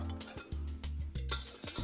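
Garlic hitting a very hot wok, a brief close sizzle mixed with clinks and scrapes of a utensil against the metal, with rhythmic stirring knocks.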